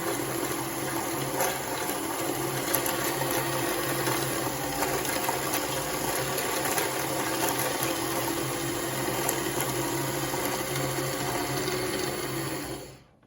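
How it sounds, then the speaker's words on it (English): A sewing machine winding a bobbin gives a continuous, even mechanical whir and hum at moderate level, steady for most of the span before cutting off at the end. "that's actually going to be what stops the bobbin winding automatically"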